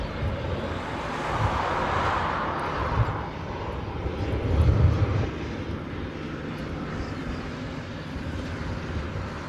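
Airliner engines roar at Honolulu airport, a broad, steady jet rumble at moderate distance that swells slightly midway and then settles into a sustained drone.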